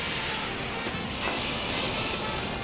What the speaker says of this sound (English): Stand back. Poof the flambé.